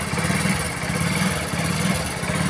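A Hero Splendor BS6 motorcycle engine idling with a rough, uneven putter whose speed rises and dips from a faulty intake air temperature sensor, steady and close throughout.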